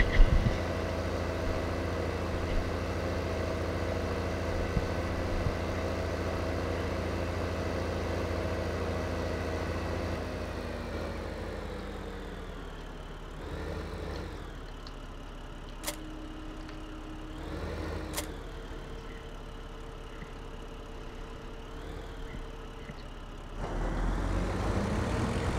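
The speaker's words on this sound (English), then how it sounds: "Let's see what it does with this stump grinding machine here now." A tractor powers a stump grinding machine in a farm simulator game, its engine droning steadily throughout with a dip in pitch midway, a few sharp clicks, then the load rising again near the end.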